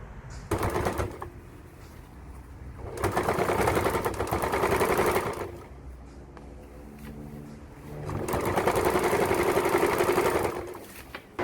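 Sewing machine stitching the drawstring slot of a fabric shoulder bag, three loud sustained runs of rapid needle chatter with quieter mechanical ticking in the pauses between them.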